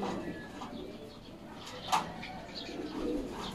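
A champion racing pigeon coos softly a few times against a hushed outdoor background, with one brief sharper call partway through.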